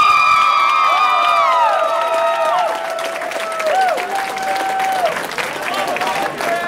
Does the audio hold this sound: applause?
yes